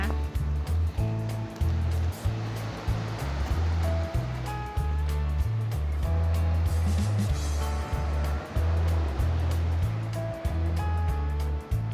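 Calm sea waves wash onto a beach under a rainy sky, a steady surf wash running throughout beneath a low, regular engine-like throb.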